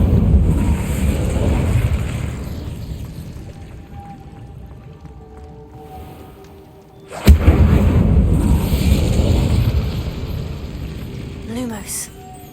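The Incendio fire spell goes off in Hogwarts Legacy, a sharp sudden burst followed by a rumbling roar, set against a booming, rumbling game soundscape with a short rising chime near the end.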